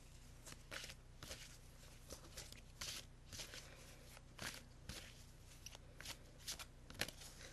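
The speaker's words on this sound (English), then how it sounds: "Okay, I'm going to cut the deck." A deck of angel cards being shuffled at close range, with repeated papery riffles and soft slaps in irregular bursts, heard alone with no talking.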